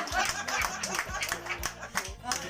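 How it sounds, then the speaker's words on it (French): Audience applause at a community awareness commission gathering in Fotetsa, Mengang, with broadband clapping bursts throughout and voices and crowd noise mixed in. "Applaudissez pour un de vous."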